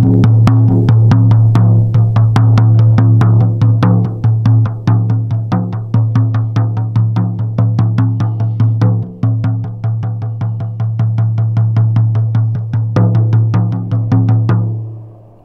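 A 22-inch Mustang single-sided frame drum sounds alone with a steady stream of struck beats, each leaving a deep, sustained boom that rings under the next, loud and close before easing off at the end.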